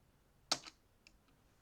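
A few quick keystrokes on a computer keyboard while entering a command for a Windows 1.0 setup, one sharp close click followed by a couple of fainter taps in an otherwise quiet room.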